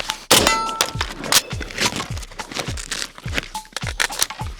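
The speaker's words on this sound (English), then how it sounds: "Oh, that reload felt way better." An AK rifle magazine reload using a painted 20-round Korean tanker mag, with a series of sharp metallic clangs and clicks in quick, uneven succession, close and loud, with no talking.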